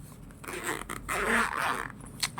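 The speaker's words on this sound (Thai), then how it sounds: "มาดูข้างใน ตัว กระเป๋าครับ ก็จะเป็นกระเป๋าซิปนะ" A zipper runs around a carrying case for a new REXTECH multimeter, giving close raspy pulls in a few bursts with short pauses and a light scrape near the end.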